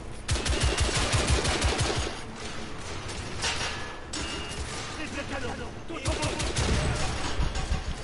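Rapid machine-gun fusillades from the video game The Order 1886 rattle in loud, dense bursts, easing briefly midway before firing hard again, with a voice talking over the shooting.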